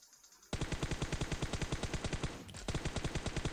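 Rapid automatic rifle spray fire in the mobile battle royale game PUBG Mobile, a dense rhythmic burst of loud gunshots starting sharply, briefly pausing with a reload-like clatter, then resuming at the same fast cadence.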